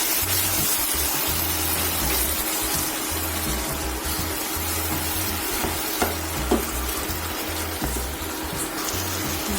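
Tomatoes cook down in a pan with a loud, continuous hissing sizzle and bubbling, stirred now and then with a few light clicks, close and steady throughout.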